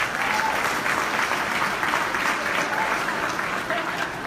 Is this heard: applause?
yes